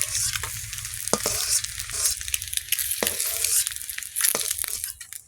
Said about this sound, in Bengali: ডিমগুলো ভাজা হয়ে গেছে, তুলে নেবো।